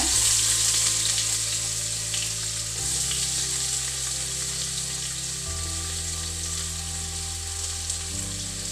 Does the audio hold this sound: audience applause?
no